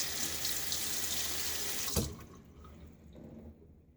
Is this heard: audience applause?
no